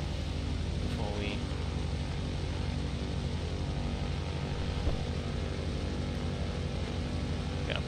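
Propeller engine of an F4F Wildcat fighter drones loudly and steadily in Kerbal Space Program as it rolls for takeoff, a continuous dense roar with no talk over it.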